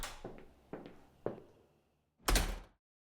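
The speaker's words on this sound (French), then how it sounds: "Et là c'est un bruit de porte classique." Film foley for a classic door: a few light knocks or handle taps, then a short pause and a louder, heavy thud as the door shuts, close and clean with nothing behind it.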